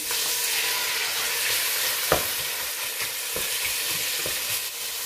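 Chicken breast frying in oil with onions in a pan gives a continuous bright sizzle, close by, with a couple of sharper spatula knocks and scrapes along the way.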